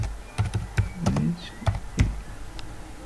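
Keys on a computer keyboard are tapped in short, uneven bursts as a captcha is typed, a few close clicks spread across a quiet room.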